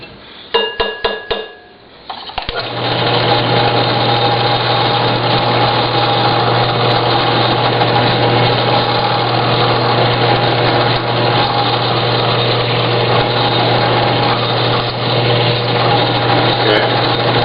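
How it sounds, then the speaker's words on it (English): A few clinks and taps, then a high-pitched power drill whirs continuously for a long stretch, close and loud, biting deep into Lexan plastic for an RC rock crawler chassis. "And I can drill down into it fairly deep, actually."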